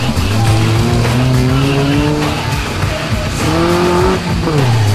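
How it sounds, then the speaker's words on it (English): A race car at the 2012 RACS Tagum round crosses the start-finish line, its engine loud and near with rising and falling revs and squealing tires as it passes. "Nino Aliviado, now crossing the start-finish line of Team Fat Speed."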